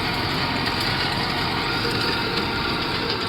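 A tractor engine runs steadily while sowing sunflowers in a field, a loud, unbroken drone holding the same level from start to end with no talk over it.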